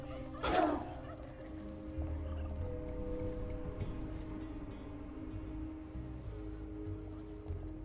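Gobbler creatures in the Dungeons 4 video game let out a sharp turkey-like gobble near the start, heard over a steady low game ambience and music bed that carries on afterward.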